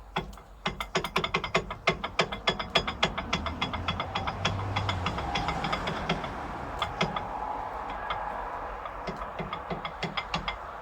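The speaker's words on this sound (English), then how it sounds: "Freeing up the pads here so they move better." Stuck, rusty brake caliper pads are worked free with rapid clicking and knocking taps over a rough scraping, close and moderately loud, in irregular bursts without talk.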